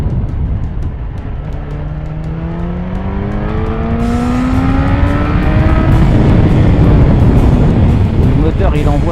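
A Yamaha FZ8 motorcycle engine revs above 6000 rpm while riding, its loud, rising whine climbing steadily in pitch over a constant rush of wind and road noise.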